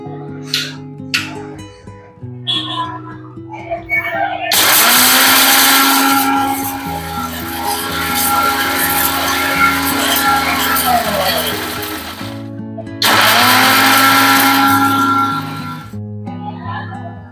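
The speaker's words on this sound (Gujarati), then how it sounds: "સાબુદાણાને મિક્સરમાં ક્રશ કરી લેશું." A mixer grinder crushes sago pearls in two loud bursts of whirring, the first long and the second shorter, separated by a pause, with quieter clatter and handling noise before them.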